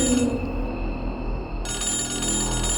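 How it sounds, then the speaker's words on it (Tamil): A telephone rings in the middle of the night in a Tamil cartoon, a loud, steady electronic ringing tone that carries on through the clip with no speech over it. "நடு ராத்திரியில அவனுக்கு மறுபடியும் கால் வருது."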